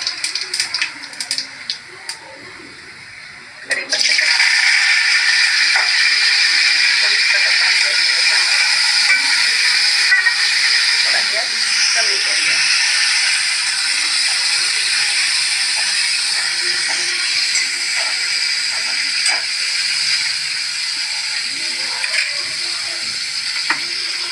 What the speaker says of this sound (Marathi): गरम झालंय आपण त्यात जिरं टाकू थोडंसं जिरं टाकलंय